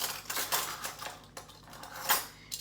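Metal kitchen utensils clatter and clink as a hand rummages through them for a small spoon, several irregular close jangles and taps with brief pauses between.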